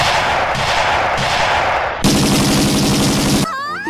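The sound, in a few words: gunfire in a cartoon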